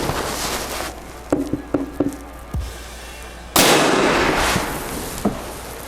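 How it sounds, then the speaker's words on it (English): A suppressed, short-barreled .308 rifle fires one loud, sudden shot inside a garage, and the blast rings and decays for a couple of seconds after some quieter handling clicks. "No hearing protection in a garage with a 308."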